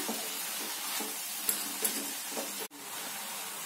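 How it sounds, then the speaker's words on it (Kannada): Moringa leaves frying in oil for a minute, a soft continuous close sizzle with light scraping and a couple of small clinks, briefly cutting out near the end, with no voices. "ಎಣ್ಣೆನಲ್ಲಿ 1 ನಿಮಿಷ ಫ್ರೈ ಆಗಲಿ ನುಗ್ಗೆ ಸೊಪ್ಪು"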